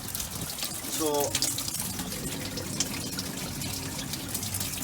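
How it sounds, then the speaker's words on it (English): Water fills one side of a bin-cleaning recycling water trailer and drains out the other, a steady broadband rush and gush running throughout, with someone speaking briefly over it. "what we're doing is filling that side up there and the water's passing back in and draining out of this side."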